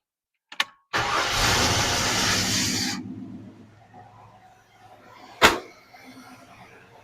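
A Ford Falcon V8 with a newly fitted exhaust cranks and fires, roaring loudly for about two seconds before settling to a quiet, low idle, with a sharp knock later on.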